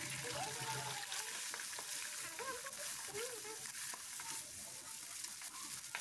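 Eggs frying with chopped chili in a pan, a continuous dense sizzle and crackle held at an even level throughout, with faint stirring and scraping sounds underneath.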